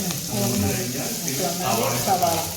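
Minced ginger and garlic frying in hot oil in a pan as the base for an egg stew, a steady soft sizzle running the whole time with voices murmuring over it.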